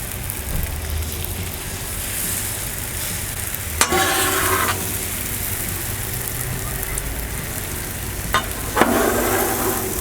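Six scrambled eggs fry on a lightly oiled Blackstone flat-top griddle, giving a steady, close crackling sizzle broken by a few sharp spatula scrapes, with no one talking.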